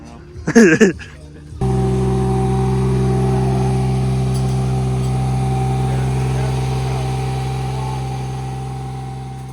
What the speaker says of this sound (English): engine's up and running